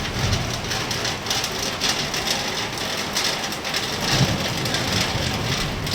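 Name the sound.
heavy rain falling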